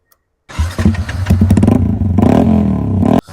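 A motorcycle engine is started and revved: a sharp clattering catch, then a loud, steady rumbling idle with rising revs close by, ending abruptly after about three seconds.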